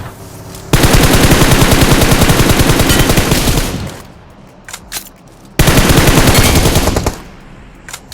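UMP submachine gun fire in a battle royale video game: two long, loud bursts of rapid automatic shots, each lasting a few seconds, with a few isolated single shots in the gap between them.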